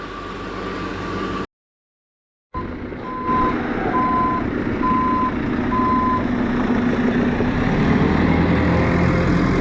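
A loader backs up with its reversing alarm beeping steadily in a regular on-off pattern over a loud diesel engine rumble, while scrap metal is being picked up; a brief dropout breaks the sound early on.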